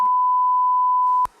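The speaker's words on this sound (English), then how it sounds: "We're beeping that out" A steady censor bleep tone sounds alone for just over a second, cutting off abruptly with a short click, then leaving quiet room noise.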